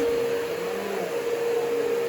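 A household vacuum cleaner runs steadily beside a bed, a close, loud motor drone with a sustained tonal whine and slight wavering as it moves.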